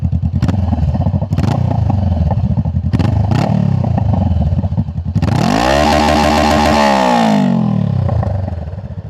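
A Honda CBR500R engine with its exhaust removed idles roughly with loud clattering, then revs hard in a sweeping rise and fall, raw and unmuffled, close by.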